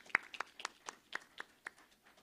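Sparse, separate hand claps from a conference audience applauding the organizing committee: about ten distinct claps spread over two seconds, fairly faint and distant, with no talk over them.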